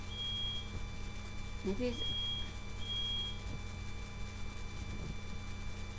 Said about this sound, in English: it may be a different style of smoke detector that actually might be the low battery thing